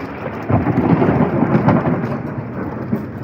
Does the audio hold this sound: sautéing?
no